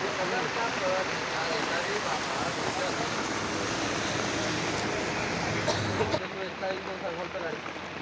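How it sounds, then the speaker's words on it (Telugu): Very heavy rain pours down in a dense, unbroken hiss that stays loud and even throughout, with a person's voice faintly beneath it. "భారీ నుంచి అతి భారీ వర్షం పడుతున్నది"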